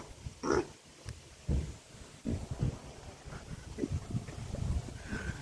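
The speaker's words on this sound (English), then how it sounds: "Hey, little piggy." A pig along the Appalachian Trail gives a few soft grunts and snuffling noises at close range, scattered and fairly quiet against outdoor background noise.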